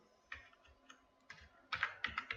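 Computer keyboard typing while entering data into an Excel inventory spreadsheet: a few scattered, close keystrokes, then a quicker, louder cluster of taps toward the end.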